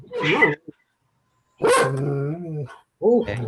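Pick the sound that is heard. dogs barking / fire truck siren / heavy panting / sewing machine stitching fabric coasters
dogs barking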